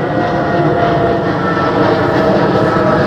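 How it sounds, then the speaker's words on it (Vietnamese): A loud airplane passes over the Binh Hung Hoa cemetery, a dense, continuous engine roar that fills the whole stretch at an even, close, heavy level without any talking. "tiếng máy bay lớn mà cả nhà."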